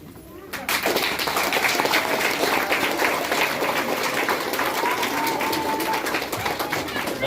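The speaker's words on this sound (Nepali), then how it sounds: "त्यो दिँदै गर्दा हामी ताली बजाउनेछौँ" A crowd at a wedding ceremony breaks into sustained, dense applause during the kanyadan, many hands clapping continuously and fairly close after a brief quieter moment, with a few faint voices underneath.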